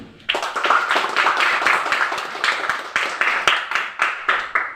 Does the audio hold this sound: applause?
yes